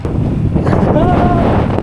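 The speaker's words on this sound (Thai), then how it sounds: "ทั้งลมทั้งฝน" Wind and rain during a bikepacking ride from Hamburg to Amsterdam, heard as a steady blustery rush of wind noise with a faint whistling tone partway through.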